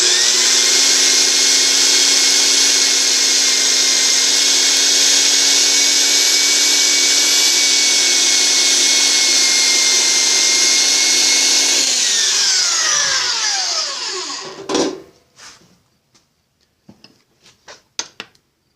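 A portable bandsaw with a wood blade cuts the end off a pen blank, a loud steady whine for about twelve seconds that winds down as the motor stops, followed by a few sharp knocks and handling taps.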